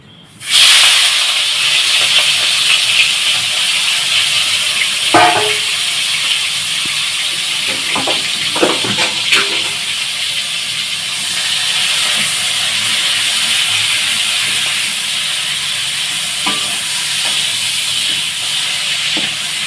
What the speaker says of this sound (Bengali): এবার আমরা চিংড়ি মাছগুলোকে ভেজে নিচ্ছি